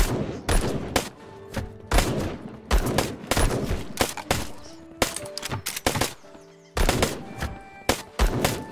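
Rapid bursts of gunfire in the airship game Black Skylands, loud and close, with repeated volleys and short pauses between them and no talking.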